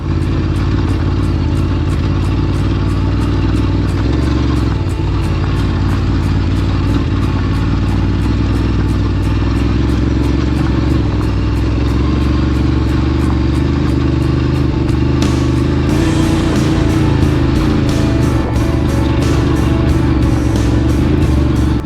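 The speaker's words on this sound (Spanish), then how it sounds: "Experimento subidas complejas a baja velocidad y el motor mantiene la fuerza sin titubear." Ducati Desert X motorcycle engine pulling steadily on slow, steep off-road climbs, a loud continuous rumble held close throughout with faint clattering near the end.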